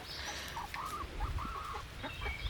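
Several white hens, a flock of bullying birds in a chicken tractor, cluck and murmur in short, close bursts over steady low barnyard background noise.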